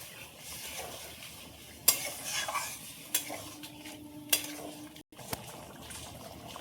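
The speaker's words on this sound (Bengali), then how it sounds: "এবার পনিরটা যে জল দিয়ে ভিজিয়ে রেখেছিলাম, সব জল শুদ্ধই দিয়ে দেবো। খুব ভালোভাবে মিশিয়ে দেবো।" A spoon stirs spiced paneer curry in a pan after its soaking water is poured in, giving a soft sizzle with scattered scrapes and clinks against the cookware.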